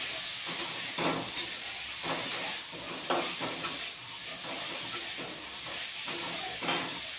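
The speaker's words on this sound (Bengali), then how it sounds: "এটা অল্প ভাজা হয়ে যাবে" Pieces of jackfruit with turmeric and salt fry in a pan, making a steady sizzle and hiss with recurring scrapes and clatters as they are stirred, close by and with no voices.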